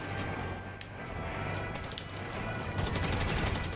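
A special weapon firing repeatedly in GTA Online, as moderately loud shots in irregular bursts that grow denser toward the end over a busy game background.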